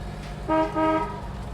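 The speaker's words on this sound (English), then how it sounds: "Horn works." The horn of a 1963 Chevrolet Corvair Monza Spyder sounds two close honks, the first short and the second a little longer, over a low engine rumble.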